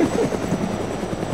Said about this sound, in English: Does he remember if the helicopter is also moving?